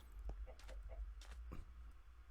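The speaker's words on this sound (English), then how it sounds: "And there's chickens everywhere." Chickens in the video game Minecraft give several soft, short clucks in an irregular run over a low background hum, with no speech.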